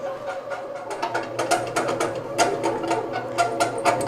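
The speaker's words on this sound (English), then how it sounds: "I really like the way this machine kneads the dough." A thrifted Breadman bread machine kneads enriched white bread dough, with a close mechanical whir and a rapid rhythmic clicking and thumping of the paddle that continues without pause.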